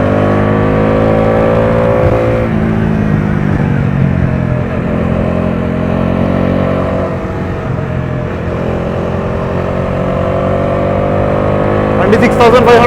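A Bajaj Dominar 400 motorcycle pulls hard in 4th gear on the road, its engine droning loudly and rising steadily in pitch toward high revs, close to the mic with wind rush, while a rider talks over it.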